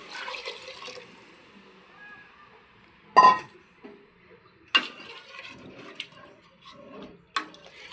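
Four glasses of water poured into a pot for prawn biryani, with splashing bursts and clinks of a vessel at moderate distance, separated by quieter kitchen handling.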